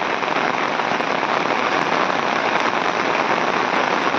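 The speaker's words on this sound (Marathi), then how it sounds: "जबरदस्त पाऊस सुटलो आता." Heavy rain falling in rural Konkan countryside where cattle graze, a loud, dense and unbroken hiss of drops that holds steady throughout, with no voices.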